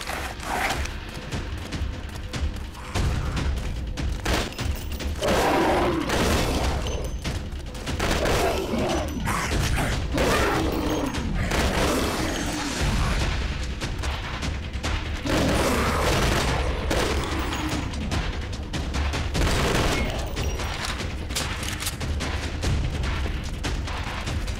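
Gunfire and explosion blasts from the zombie shooter game Left To Survive: dense, continuous bursts of shots with heavy booms layered throughout, loud and busy with no talking.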